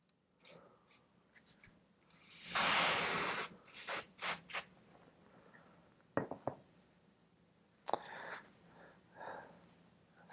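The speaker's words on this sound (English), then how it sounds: "I'm just kind of cleaning the interior of this handle scale here." Soft rubbing and wiping as the inside of a titanium Sebenza 31 handle scale is cleaned with rim oil, with a longer scrubbing burst and scattered light scrapes and taps, close and quiet.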